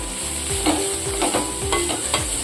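Beetroot curry with coriander and cumin powder is stir-fried in a pan. Steady close sizzling runs underneath, and a spatula scrapes and stirs at a regular rhythm about twice a second. No one speaks.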